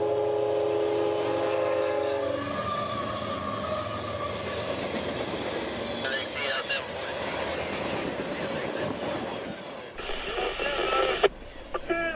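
A CSX freight train, L743, with rock loads and auto racks rolls south on the Florida mainline. A horn sounds early on, then come sustained wheel and railcar rumble with squeals, along with radio chatter and brief voices.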